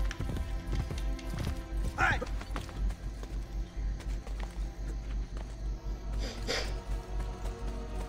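Horse hooves galloping in Assassin's Creed Brotherhood, rapid rhythmic clip-clop running steadily throughout with a couple of brief neigh-like swells, a voice talking over it.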